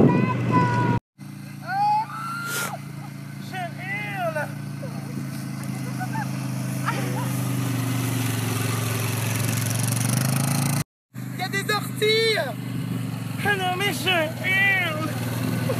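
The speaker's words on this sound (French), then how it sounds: "C'est un quad." A quad bike engine runs on a farm, a steady low drone under excited voices and laughter, with two brief dropouts.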